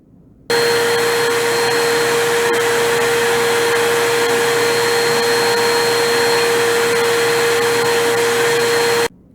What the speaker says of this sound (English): So I have this decibel meter and a corded Hoover vacuum.